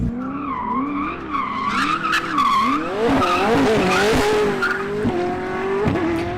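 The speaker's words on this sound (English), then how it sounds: "So here we go, Jesko Absolut, full send." A Koenigsegg Jesko Absolut hypercar with a twin-turbo 5-litre V8 launches at full throttle, its engine note rising through sharp gear shifts and loud tire squeal, close and intense with no talking.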